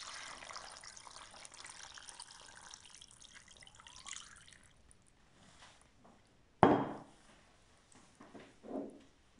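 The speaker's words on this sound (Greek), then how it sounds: "Και ρίχνω από πάνω την άλμη." Brine poured from above into a plastic container of pickled eggplants covered with celery leaves, a steady watery splash for several seconds that then stops, followed by a couple of sharp knocks of the container.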